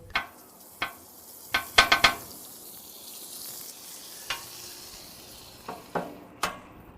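An egg cooking in butter in a pan gives a soft, steady sizzle, punctuated by sharp utensil clicks and scrapes, including a quick cluster of taps early on and a few spaced knocks later, close by and without speech.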